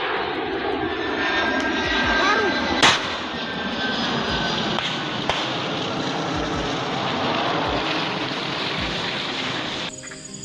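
A TNI transport aircraft's engine drones loud and steady near the ground in Yahukimo, with a brief sharp crack partway through and a sudden change near the end.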